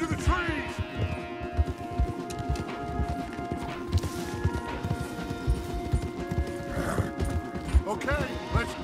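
Horses in the video game Red Dead Redemption 2 clip-clop steadily at close range, with occasional whinnies and neighs over busy ambient game sound and background voices.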